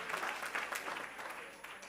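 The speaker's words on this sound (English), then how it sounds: "Can we just give them another big round of applause?" An audience at a teachers' and practitioners' research colloquium gives a quiet, sustained round of applause, a dense steady patter of many hands heard from a distance.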